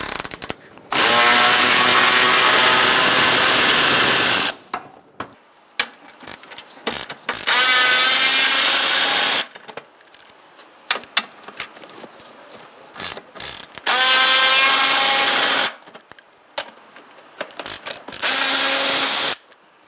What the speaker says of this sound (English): now we're going to use a 10mm socket, and we're going to undo our bolts